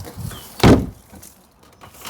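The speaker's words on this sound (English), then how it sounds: "closing the door." One solid thud of a Talbot Matra Rancho door being pushed shut, close by, amid faint rustling and handling noises.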